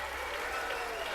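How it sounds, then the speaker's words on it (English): Arena crowd applauding two boxers, Abner Mares and Vic Darchinyan, after a 12-round fight, a steady dense wash of clapping that sounds fairly distant, with a faint voice underneath. "they both deserve a round of applause"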